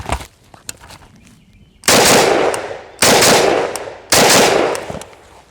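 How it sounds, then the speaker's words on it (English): A SIG 552 rifle fires three loud, close double taps, each pair a sharp crack followed by a quick second shot, separated by brief pauses with faint handling noise before the first burst. "Let's do some double tap and see how little muzzle climb I got."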